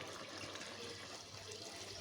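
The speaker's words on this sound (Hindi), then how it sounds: "इसको पानी हम डाल देंगे" Water pours steadily into a cooking pot for tahari, a continuous soft rushing splash with no break, heard alone at low level.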